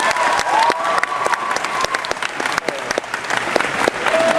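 An audience at a convention stage show at Emerald City ComicCon 2012 claps loudly, a dense, sustained burst of applause from a large crowd, with a few cheers over it.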